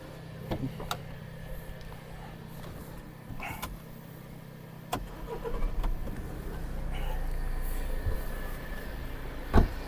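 A Volkswagen Passat B7 car engine cranks and starts, settling into a steady low idle rumble for the last few seconds, with a few clicks and knocks before it.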